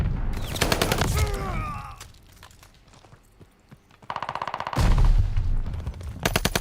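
H4 Blixen submachine gun in Call of Duty Vanguard firing in loud rapid bursts, first at the start and again after a quieter gap, with other sounds in the lull between bursts.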